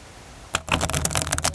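A quick riffle of tarot cards being shuffled, a rapid flurry of crisp flicks and clicks close by, after a brief quiet moment.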